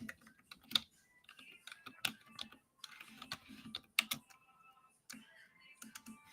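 Rapid, irregular clicks of typing on a computer keyboard, close and moderately loud, in short bursts with brief pauses, with faint background voice or room sounds underneath.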